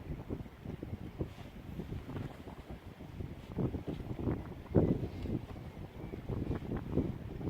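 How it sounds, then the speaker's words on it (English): Wind gusts against a small boat on open water off Seil Island, a steady broadband rush and buffeting on the microphone with faint water sloshing beneath, no voices. "It's quite hard going against the wind on the far side."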